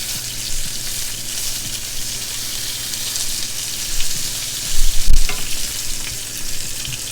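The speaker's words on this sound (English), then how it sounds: "I'm adding a bit more marinade to it as it's in the grill pan." Chicken kebabs with marinade sizzle and crackle steadily in a grill pan over medium heat, with a louder burst of spitting about two-thirds through as more marinade hits the hot surface; no talking.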